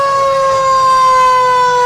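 Steady, piercing siren tone from a fire ladder truck in a small-town Fourth of July parade, loud and close, holding one high pitch with strong harmonics throughout.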